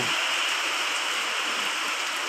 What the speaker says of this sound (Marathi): रिमझिम पडती पावसाच्या सरी सरी सरी बघा कसं वाटतंय निसर्ग